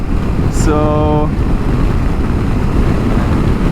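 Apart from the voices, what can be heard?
strong wind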